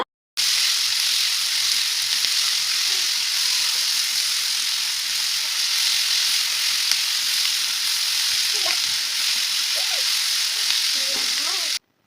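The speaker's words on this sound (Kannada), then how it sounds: "ಈರುಳ್ಳಿ ಹಾಕೊಳ್ತಾ ಇದ್ದೀನಿ. ಹಾಫ್ ಸ್ಪೂನು ಉಪ್ಪು ಹಾಕೊಳ್ತಾ ಇದ್ದೀನಿ. ಚೆನ್ನಾಗಿ ಫ್ರೈ ಆಗಬೇಕು." Sliced onions with half a spoon of salt fry in hot oil in a pan for bisibele bath, giving a loud, continuous close sizzle with a few light stirring scrapes near the end.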